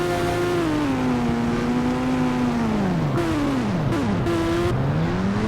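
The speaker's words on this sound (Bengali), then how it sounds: "মানে ফার্স্ট টাইম যেতেছে বাইক চালাইতেছি তো এই গেমের মধ্যে।" Motorbike engine in the GTA video game, revving continuously with the pitch sliding up and down as the bike speeds up and slows. The engine tone is clear and close, with no talking.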